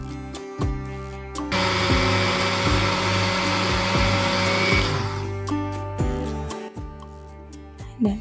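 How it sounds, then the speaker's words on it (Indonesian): Blender whirring as it purées green chili peppers, bird's eye and large green chilies, with a little water in a home kitchen; loud steady motor roar starts after a second and runs about three seconds, then winds down under kitchen clatter. "aku tambahkan sedikit air seperti ini biar lebih gampang di blender ya"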